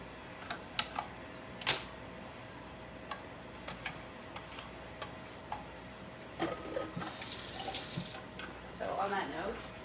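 Tap water running into a sink while making caramel sauce in a home kitchen, heard as a steady splashing stream in the last few seconds after scattered light clicks and knocks.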